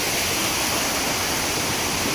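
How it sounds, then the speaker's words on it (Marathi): A small waterfall on a well-filled monsoon stream gives a loud, steady, close rushing roar of falling water that fills the whole moment, with no voices. "हा इकडे धबधबा छोटा व्हाळीचा वरच्या"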